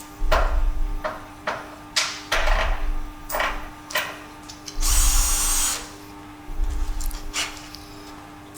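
A negative rake scraper is pressed in repeated short passes against a spinning grinding wheel. Several loud, gritty bursts come in an irregular rhythm with a steady motor hum between them, close up and with no voices.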